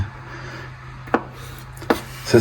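A knife finely chopping vegetables on a board for a burger sauce: three sharp, close chops spaced apart, with no talking.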